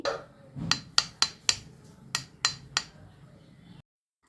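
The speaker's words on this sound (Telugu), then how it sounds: "ఇలా గిన్నెకి గనక కొట్టి చూసినట్టయితే సౌండ్ అనేది వస్తుందండి" A lump of hardened jaggery syrup for puffed rice laddu taps against a bowl about nine times in quick, uneven succession, each tap a sharp, ringing clink close by.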